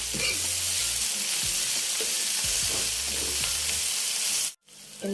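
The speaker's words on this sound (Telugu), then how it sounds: "నువ్వులు, ఆనియన్ చక్కగా ఆయిల్లో ఫ్రై చేసుకోవాలి" Sesame seeds and onion frying in oil in a pan, a loud continuous sizzle with occasional stirring knocks, cutting out abruptly near the end before resuming briefly.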